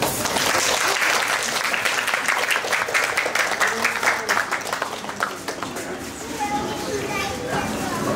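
An audience at a hospital clowns' stage show claps loudly, a dense patter of many hands that thins and fades over several seconds, with voices faintly underneath.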